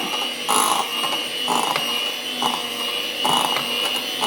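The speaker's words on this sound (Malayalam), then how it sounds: "അപ്പോൾ ഞാൻ ബീറ്റർ വെച്ചിട്ടാണ് ചെയ്യുന്നത്." An electric beater whips dahi vada batter, giving a steady mechanical whir with louder grinding bursts that recur about once a second, close and without talk.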